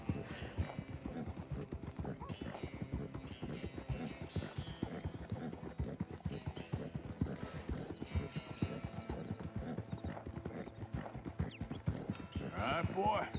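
Horse hooves clip-clop in a steady gallop-like rhythm while riding in Red Dead Redemption II, with someone talking over the continuous hoofbeats throughout.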